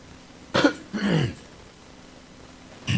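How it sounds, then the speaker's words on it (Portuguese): A few harsh coughs close by, with a pause between bursts and a quiet background otherwise, during a city council session in Itaperuna, Rio de Janeiro, Brazil. "a tosse está me arrebentando aqui"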